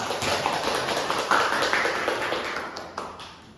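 A classroom of students claps for a classmate after her answer during a school lesson, a dense, steady patter of many hands that keeps going for a few seconds and then fades, with no talking over it.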